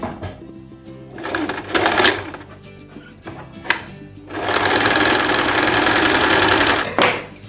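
A sewing machine set to its longest stitch and highest tension runs a straight-stitch gathering seam to ruffle fabric for a dress, in several loud, near bursts of rapid needle chatter separated by brief pauses.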